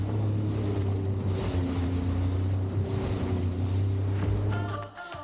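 A jet ski speeds over sea waves off Chanthaburi, its steady droning motor loud and close beneath constant wind and water rush, easing off at the end.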